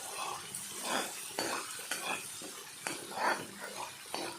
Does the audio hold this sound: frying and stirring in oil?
yes